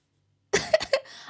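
A single close, rough cough breaking into a few quick bursts after a moment of silence.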